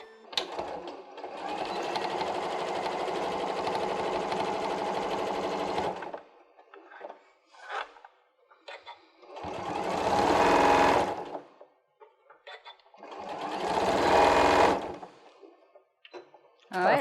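Domestic sewing machine stitching elastic into a Santa hat in three separate runs, one long steady burst and two shorter ones, loud and close, with quiet handling sounds between them.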